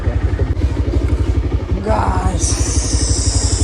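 A motorcycle engine idles with a steady low throb while the bike is being parked at a Monday weekly market in Karbi Anglong, with someone speaking over it and a high tonal whine joining near the end.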